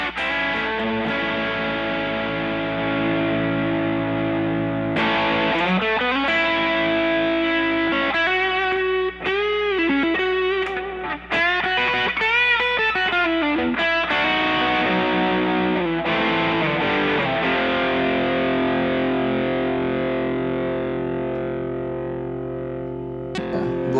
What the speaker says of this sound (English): Barber distortion pedal.